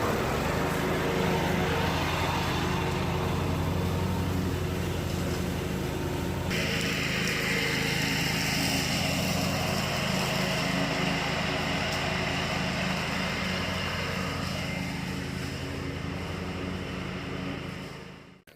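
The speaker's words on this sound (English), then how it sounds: "You just mow all through that area." A lawn mower engine drones steadily and loudly while mowing through a BMX trail area, continuous and close with a shift in tone partway through, fading at the very end.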